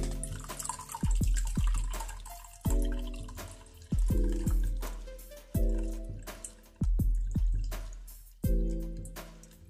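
Herbal infused water for a leave-in hair conditioner is strained into a container, heard as a series of splashing pours with trickling and dripping in between, close and fairly loud.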